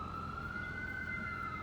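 Emergency vehicle siren holding a steady wailing tone with a slight rise in pitch, heard from a distance over a low background rumble of road traffic.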